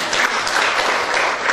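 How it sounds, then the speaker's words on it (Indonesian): A church congregation at a worship service applauds in a short, dense burst of steady clapping with no voices standing out. "Amin, tepuk tangan untuk Tuhan Yesus."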